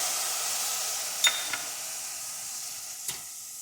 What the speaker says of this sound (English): we're gonna deglaze